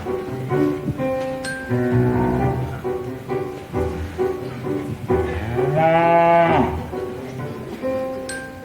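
A cow moos in a stage musical staging of Into the Woods, one drawn-out low bellow rising over a busy orchestral accompaniment, mid-distance and fairly loud.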